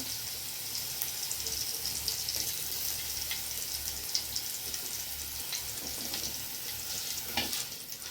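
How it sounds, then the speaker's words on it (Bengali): Black cumin seeds sizzle in hot oil while a Bengali-style greens chochori is being cooked, a steady, close frying crackle with scattered pops that runs unbroken throughout, with no voices. "পেঁয়াজ রসুনটা সরিয়ে আমি কালো জিরাটা দিয়ে দিলাম।"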